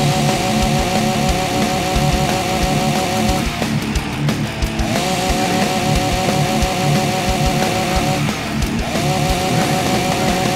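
A chainsaw in the video game The Walking Zombie 2 runs loudly and steadily, its buzzing engine note briefly dipping and surging twice, with no speech over it.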